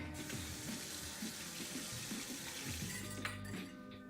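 Tap water runs steadily into a kitchen sink while someone bakes a raisin cake, a continuous close splashing stream with a few faint clinks of utensils, no talking.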